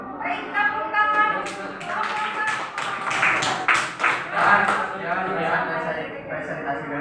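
Students in a madrasah classroom clapping together in a rhythmic series of sharp claps, mixed with voices talking and calling out over them.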